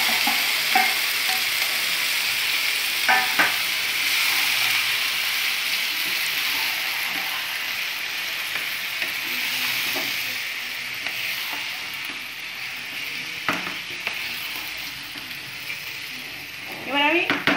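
Chicken is stirred into browned onions frying in a pan on lowered heat, with a steady sizzle throughout and several scraping strokes of a spoon against the pan.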